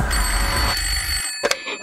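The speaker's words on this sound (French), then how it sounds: "jusqu'au jour où le téléphone sonne." A telephone rings in a French comedy scene, bright metallic ringing tones over steady background sound, ending in a few short separate bursts.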